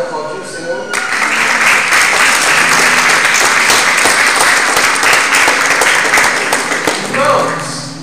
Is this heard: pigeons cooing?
no